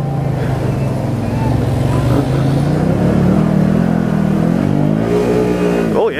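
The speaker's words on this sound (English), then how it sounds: "Oh yeah, four wheels spinning." A 2021 Can-Am Maverick Sport XMR side-by-side revs hard up close, its loud engine roar surging and climbing in pitch as all four wheels spin, a sustained drone that sweeps upward near the end.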